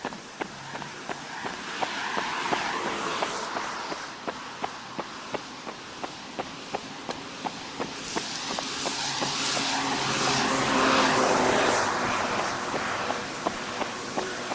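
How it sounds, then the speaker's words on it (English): A city bus on route 28 to downtown Victoria rumbles past, swelling and then fading, while a runner's quick footsteps tap in a steady rhythm throughout. "just letting the bus go by. The 28 downtown to Victoria"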